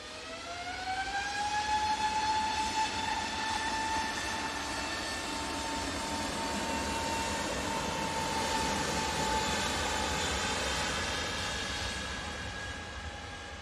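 A jet airliner departing Manchester Airport for Amsterdam Schiphol, a loud sustained engine roar with a rising whine that steadies into a steady tone, near and continuous throughout with no talk.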